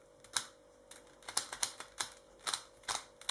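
A Rubik's-style octahedron twisty puzzle clicks crisply as its faces are turned, about a dozen sharp, close, irregular snaps in a quiet room with no talking.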